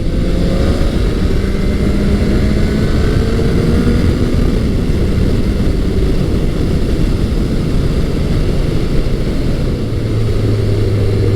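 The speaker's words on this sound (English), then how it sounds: "there's a jet engine Kawasaki sound" A Kawasaki ZZR1200 motorcycle engine drones loudly and steadily with a jet-like sound, its pitch sliding up and down as it revs, with a rough, buzzing texture throughout.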